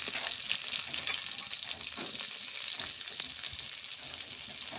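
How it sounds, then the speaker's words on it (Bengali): Cumin seeds and slit green chilies sizzle in hot oil, a soft, continuous close-up frying hiss with scattered tiny pops and crackles throughout, no talking. "তেলে আমি জিরে ফোড়ন দিয়ে দিলাম"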